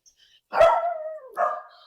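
A dog gives a sharp bark that trails into a whine, followed by a second shorter bark, close by in a quiet room.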